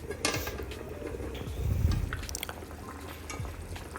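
Water poured into aloo matar, a potato and pea curry, gives a soft, brief trickle and splash. The sound swells around the middle against a low, steady kitchen background, with no talking.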